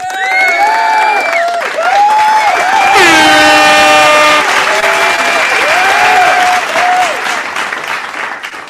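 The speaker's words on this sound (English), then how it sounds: "let me first of all give you a clap" A crowd claps and cheers loudly and continuously, while strong horn-like blaring tones rise and fall over the applause throughout.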